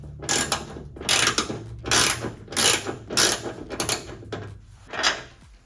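A ratchet wrench loosens the top bolt on a 2022 Toyota 4Runner, sounding as a series of close, crisp clicking bursts in an uneven back-and-forth rhythm.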